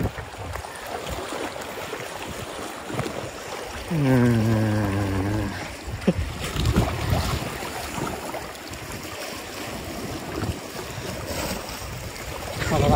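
Wave wash rolls steadily against a fishing boat on Misho Bay, with a continuous near rush of water and a brief voice midway.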